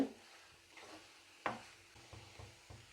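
Onions stirred in a frying pan give a few soft scraping strokes over a faint sizzle, close by and fairly quiet.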